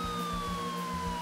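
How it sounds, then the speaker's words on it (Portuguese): A police patrol boat siren in a video game wails steadily, a loud continuous tone sliding slowly downward over an engine drone, with no talk. "Ó, até sirene no barquinho"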